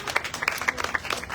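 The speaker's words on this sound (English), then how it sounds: "Please give her another big round of applause" A short burst of clapping from a crowd at a Miami event launching a children's zero-drowning initiative, dense and fairly close, with no pauses.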